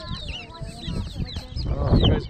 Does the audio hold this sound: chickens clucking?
yes